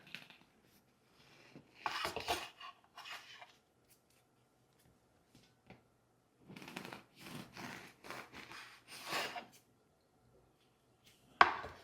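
An adjustable bread knife sawing through a loaf in several separate bursts of rasping, crunchy strokes, close and fairly quiet, with silent pauses between the slicing passes.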